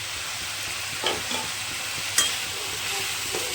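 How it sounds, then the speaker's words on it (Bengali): Ground chilli, turmeric, cumin, coriander and salt sauté in a pan for Kashmiri aloo dum, a soft continuous sizzle with a few brief scrapes and clinks of stirring, close and without speech. "ভালো করে মশলাটা কষিয়ে নেব, হালকা একটু জল দিয়ে কষাবো"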